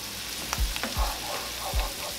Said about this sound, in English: let the garlic kind of toast a little bit